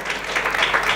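Congregation applause breaks out during a sermon: a dense, steady wash of many hands clapping together, fairly loud and close, filling the whole short moment without a pause.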